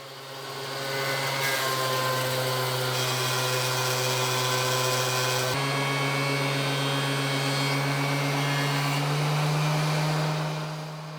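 A woodworking planer on a cart with an outfeed table roars steadily while pine boards for a door are milled, starting after a second and shifting pitch slightly as the cut changes.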